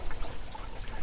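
Water poured into a rabbit cage watering system that feeds drinking cups for several cages on a farm, a soft steady trickle and splash heard close up for about a second with no talk.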